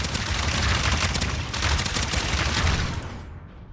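Rapid, dense automatic gunfire from a weapon in the video game Starsiege: Deadzone, a continuous loud volley running for several seconds before cutting off abruptly.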